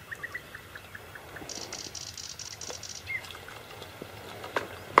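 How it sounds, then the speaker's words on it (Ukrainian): Light rain begins falling outdoors by a marsh during fishing: faint, scattered ticks of drops, quiet and close, with a brief pulsing chirr in the middle. "Дощик пускається, мелкий."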